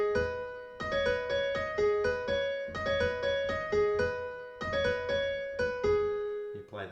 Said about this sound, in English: We get to play the piano solo in the right hand here.